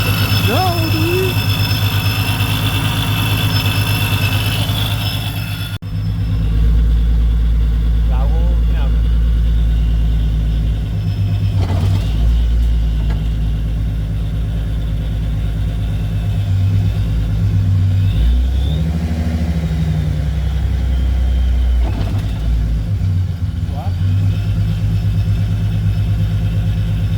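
A 2011-2014 Ford Mustang V6 fitted with a GT clutch conversion on a test drive: a loud, steady low engine drone and road rumble filling the whole stretch, with a brief shift in tone early on and someone talking over it.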